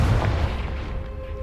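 A Confringo spell in Hogwarts Legacy bursts in a single deep, booming explosion that hits at once and fades into a rumbling tail, with no talk.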